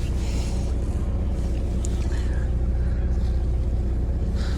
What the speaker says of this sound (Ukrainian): Ну йдемо на холодну, послухаємо двигуна.